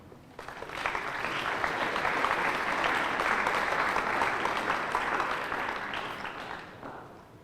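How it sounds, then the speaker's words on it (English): An audience at a 2019 high school senior awards ceremony applauds, with dense steady clapping that swells quickly, holds for several seconds, then tapers off. "What a round of applause."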